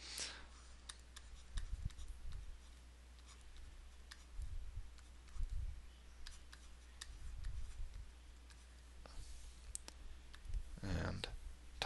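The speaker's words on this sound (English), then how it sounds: "type this into the calculator" Calculator buttons are pressed in a quick series of soft, close clicks scattered over several seconds, with low thumps from handling between them and no talk.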